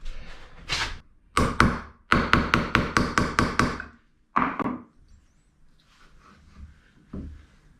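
Wheel bearings being knocked into place on a Yamaha Tenere 700 motorcycle: a burst of about a dozen sharp, loud, evenly spaced metallic knocks, with a few separate strikes before and after, close by.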